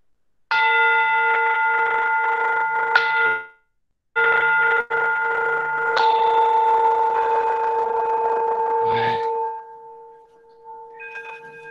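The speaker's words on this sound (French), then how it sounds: "c'est parti avec le petit gong" A small meditation gong struck three times, each a bright ringing tone that sustains for a few seconds before the last strike fades slowly into near silence.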